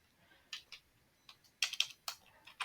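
Faint, quiet typing on a computer keyboard while an SQL query is entered, with scattered single key clicks followed by a few quicker bursts of taps; no one speaks.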